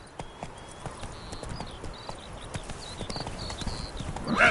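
Geralt's horse Roach gallops in The Witcher 3, with rapid, close hoofbeats drumming over soft ambient chirps; the sound swells louder at the very end, and no one speaks.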